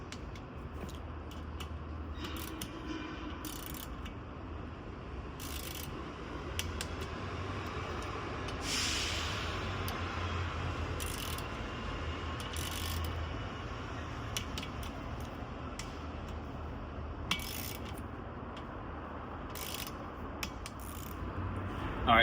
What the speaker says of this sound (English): I have it set to 10, which will be the second stage that you'll go around and do the bolts.